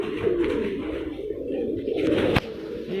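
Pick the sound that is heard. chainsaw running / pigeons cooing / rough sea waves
pigeons cooing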